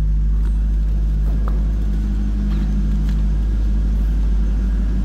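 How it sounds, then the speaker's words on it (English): A 1998 Chevrolet Corvette convertible's LS1 V8 idles through a Borla exhaust, giving a steady, close low rumble with a few faint clicks over it. "There's a little rumble coming out of that LS1 with that Borla exhaust on there"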